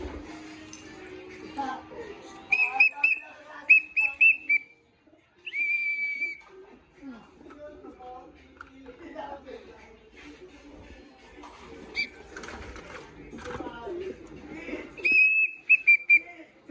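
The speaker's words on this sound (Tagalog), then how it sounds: "Dami naman naghahanap sa akin mga kalapatids" Pigeons call nearby in short whistly, cooing bursts scattered across the stretch, with soft shuffling and occasional quiet talk in between.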